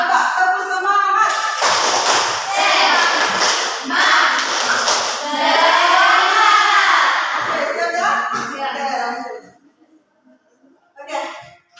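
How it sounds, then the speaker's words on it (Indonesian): In a school classroom, children chant a spirited cheer in unison and punctuate it with loud rhythmic claps for about nine seconds. The group then goes quiet, and a brief voice follows. "Coba tepuk semangat."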